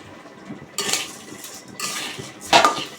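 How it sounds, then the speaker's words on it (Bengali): Pulao rice frying in a pot with ginger and garlic paste, cardamom and cinnamon, stirred with a metal spoon that scrapes and clinks against the pot in a few close, sharp bursts. "আর এদিকে আমি পোলাও চাউলটা একটু ভেজে নিব"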